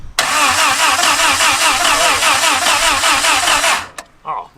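Old flathead engine in an 80-year-old abandoned Jeep cranks, catches and runs with a loud, steady, close chugging rhythm for several seconds before cutting off.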